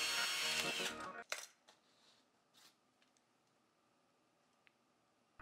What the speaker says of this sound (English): I needed to drill some holes through the chest for wires to run through.